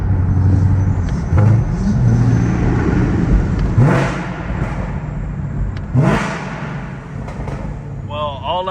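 A Chevrolet Camaro ZL1's engine idles with a deep rumble and rises in two sharp revs, loud and close, while voices talk over it.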